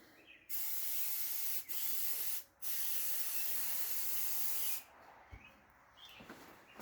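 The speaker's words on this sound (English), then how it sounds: "I'm going to give it a little spray of brake cleaner." Several bursts of brake cleaner hissing from an aerosol can onto a greasy brake adjuster, a short one then a long steady blast, followed by quieter handling sounds.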